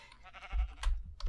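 A sheep bleats in the video game Minecraft, a short wavering bleat over low rumble with a few clicky keyboard-like taps, brief and fairly close.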